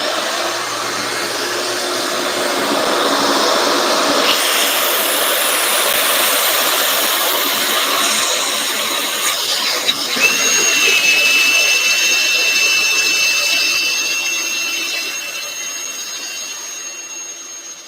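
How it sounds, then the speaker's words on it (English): Drilling and vacuuming of metal chips on a red MTT43 tank, a steady loud broadband whine and rush with a rising tonal pitch partway through, continuous throughout with no talk. "So I stopped the drilling and vacuum to try to minimize all the chips that are going to be happening."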